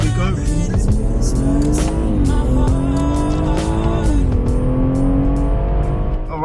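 A BMW M140i accelerates hard during a 0-60 mph run, its engine note loud, close and continuous, climbing and dropping through gear changes over heavy road and wind noise.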